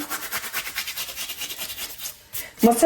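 Carom seeds (ajwain) crushed between the palms over a cooking bowl, a steady rhythmic dry rubbing and rasping that repeats in quick strokes, close and fairly quiet, ending in a brief clatter.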